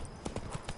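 A horse pulling a wagon clip-clops in a quick run of four or five hoof strikes, fairly close and steady, with no speech over it.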